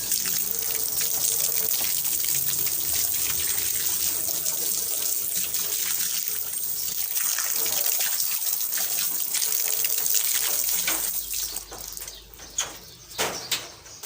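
Water drains steadily out of a cement frog-rearing pond in a continuous rushing, splashing flow. The flow stays loud and even, then thins into a few separate splashes near the end.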